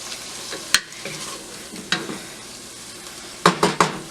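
Wilted spinach cooks with onion and garlic in a pan, a soft background sizzle broken by several sharp stirring scrapes and utensil clanks against the pan, close by and without voices.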